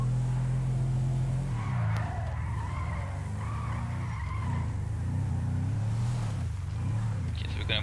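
A police car in the video game GTA 5 with mods revs its engine and squeals its tires in long skids, holding a loud steady drone throughout with no voices.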